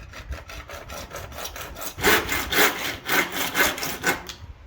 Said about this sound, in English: just follow your line with your handsaw